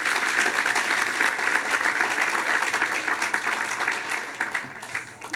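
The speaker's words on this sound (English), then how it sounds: "Let's give them all a round of applause." A crowd at the Caltrain electrification groundbreaking event gives a sustained round of applause, thick and even clapping from many hands across the whole stretch, with a few scattered louder claps near the end.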